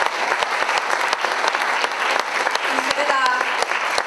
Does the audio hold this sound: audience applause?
yes